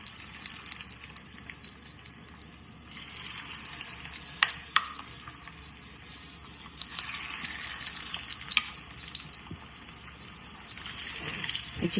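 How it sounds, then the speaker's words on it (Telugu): Chicken pieces frying in plenty of oil in a kadai give a steady, close sizzle with occasional stirring clatter and sharp spoon taps, with no one talking. "ఇప్పుడు ఈ చికెన్ ఫ్రై చేసుకుందాం."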